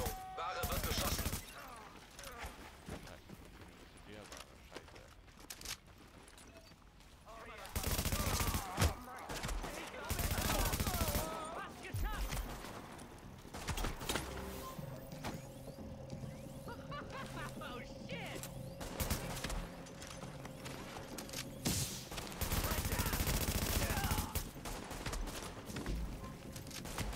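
Gunfire in The Division on Xbox One sounds in repeated bursts and volleys of shots over about half a minute, mixed with game sounds and voices talking throughout.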